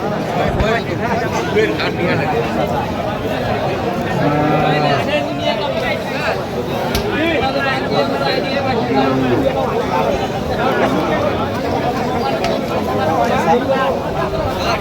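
Cattle at a livestock market low now and then amid a dense crowd hubbub. Close voices talk over much of the scene.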